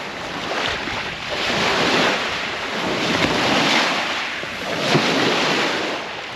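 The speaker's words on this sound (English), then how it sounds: "But here's the waves" Waves wash onto the shore of Loch Maree, a loud, close surging rush that swells and recedes in slow surges, mixed with gusty wind buffeting the microphone and no voices.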